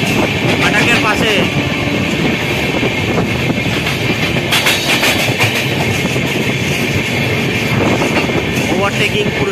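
The Duronto Express train overtakes the Purushottam Express near a level crossing, with a loud continuous rumble and rattle of the passing coaches, wind buffeting and a voice talking over the noise.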